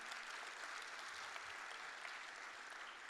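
Audience applause at an awards event, a dense, even wash of clapping that holds steady at moderate level throughout.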